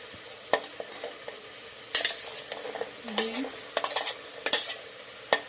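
Peanuts, knol-khol, beans and carrot sizzle in a pan for bisi bele bath while a utensil stirs and scrapes through them in irregular clinks and scuffs over a steady frying hiss.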